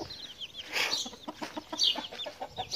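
Chickens cluck and fuss inside a stone coop on a very hot day, several birds giving repeated short calls close by, with no people talking.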